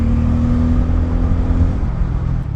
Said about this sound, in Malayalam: ബജാജ് പൾസർ പണ്ട് മുതലേ ഉള്ളതെന്ന് പറഞ്ഞാൽ ഒരു എയർ ഇൻടേക്ക് ശബ്ദത്തിലുള്ള ഒരു പ്രത്യേകത